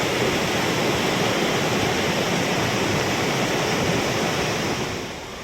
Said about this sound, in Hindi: जहां पुल पर पानी बह रहा है।